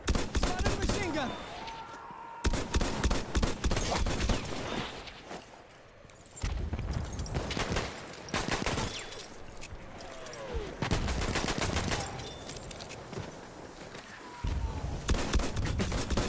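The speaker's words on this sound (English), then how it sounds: "There, enemy machine gun." Enemy machine gun fire in Battlefield 1, with repeated bursts of rapid shots cutting in and out over about sixteen seconds, loud and fairly close, mixed with other battlefield gunfire and clatter.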